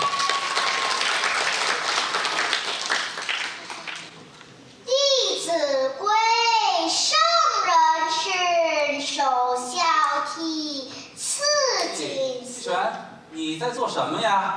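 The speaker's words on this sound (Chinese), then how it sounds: "掌声鼓励" An audience claps warmly for two children on stage at a parent-child talent competition. The applause fills the first few seconds and fades, then the children's voices take over and keep talking.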